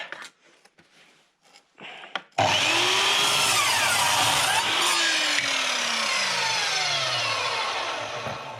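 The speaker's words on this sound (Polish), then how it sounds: "natnę tą piłą" A hand saw cuts angled wooden wedges in steady, rasping back-and-forth strokes, loud and close, after a few quieter knocks at the start.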